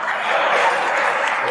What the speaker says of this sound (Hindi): हाँ बजा दीजिए, ढंग से बजाइए, ताली।